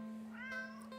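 A stranded black stray cat gives a single short meow, clear and close but soft, over a faint steady hum.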